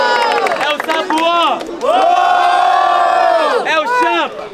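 Crowd at a freestyle rap battle erupts in loud cheering, whoops and sustained shouting in unison, rising and falling in waves close by.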